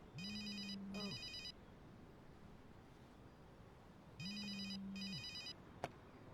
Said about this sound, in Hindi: फोन उठाने वाले हो क्या?